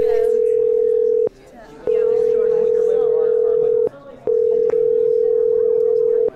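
A phone ringback tone sounds while a call waits to be answered, three long steady rings separated by short gaps, loud and clear.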